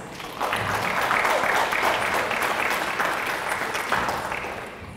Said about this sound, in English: So how about you give yourselves a round of applause.